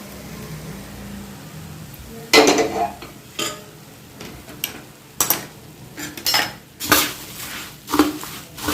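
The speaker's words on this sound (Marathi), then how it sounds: "सुरुवातीला पळीने थोडे मिक्स करून घ्यायचे" Ladle clanking and scraping against a pot as hot fried tempering is mixed into puffed rice chivda, a series of loud, irregular metallic knocks and rustling scrapes with quiet gaps between them.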